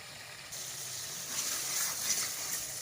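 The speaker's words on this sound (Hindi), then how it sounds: "इसीलिए पहले मैं मटर भून रही हूँ। मटर और थोड़ी देर भूनेंगे।" Peas roast in a pan with a soft, steady sizzle and faint hiss, quiet and close, with a few slightly louder crackles toward the end.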